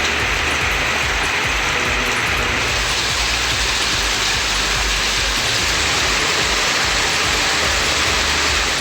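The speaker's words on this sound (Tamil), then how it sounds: "சுமார் அரை மணி நேரத்திற்கு மேலாக மழை பெய்தது" Heavy rain pouring steadily in the Periyakulam area, a loud dense hiss and patter filling the whole stretch without pause, close and continuous with no voices.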